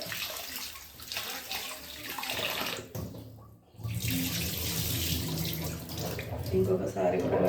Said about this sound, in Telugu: ఇలా వాటర్తో కడిగేసుకోవాలి మంచిగా.